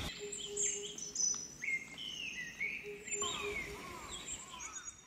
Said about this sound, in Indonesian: Suara aliran air dan kicauan burung menjadi latar belakang alami yang ada di sini.